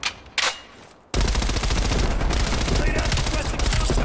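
Rapid automatic gunfire in Call of Duty Black Ops Cold War, a loud, dense, continuous burst of shots that erupts after a few brief sounds and keeps rattling without pause.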